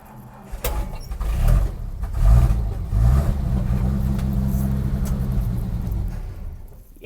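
A 1953 Studebaker 2R5 flathead engine, running on stale fuel, cranks with a few lumpy turns and catches, then settles into a steady low rumbling idle close by, with no talking.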